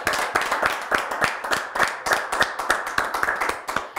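A small studio audience claps for a guest on a French-language African diaspora talk show, a brisk irregular patter of hand claps at close range with no talk over it.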